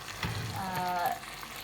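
Soft sizzling and bubbling from a pan of eggplant curry with chicken, potatoes and water on the heat, a brief quiet stretch of cooking sounds with a faint clink near the start.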